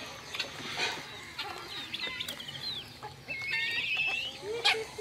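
Several chickens, hens and roosters, clucking and chattering in short bursts, with sharper squawks rising over the flock, close by in an open farmyard.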